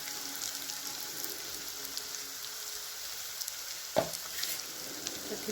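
Poha with salt is tossed in a hot pan over a constant soft sizzle, with one sharp clack of a utensil against the pan partway through.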